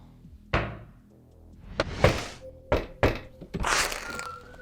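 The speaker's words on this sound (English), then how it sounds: "I knocked on the door." Several hard knocks land on a door at uneven intervals, each a close, dull thump with a short ring, set in a quiet room with no voices.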